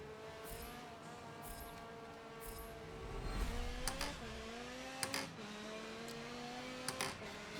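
Race cars roar off the start line in Forza Motorsport 7, a dense blend of engines revving with rising pitch sweeps as gears climb, punctuated by brief sharp transients near the end, with no talk.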